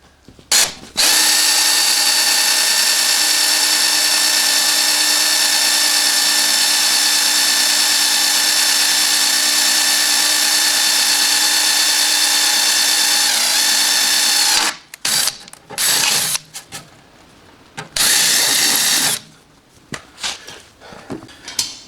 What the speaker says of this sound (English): these are good drill bits